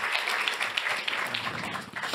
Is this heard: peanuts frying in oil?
no